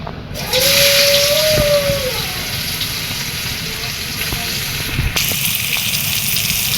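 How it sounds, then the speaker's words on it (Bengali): Sliced onion and green chillies fry in oil left over from frying tilapia, making a continuous hissing sizzle of moderate loudness with a short tonal whine early on. "এখন পেঁয়াজ আর কাঁচামরিচ ভেজে নেব"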